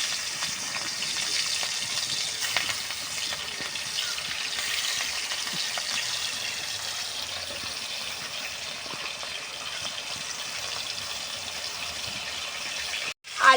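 Pona fish fry in hot oil in a kadai, producing a steady, close hissing sizzle that holds evenly for several seconds before a brief break and a louder burst of clatter at the end.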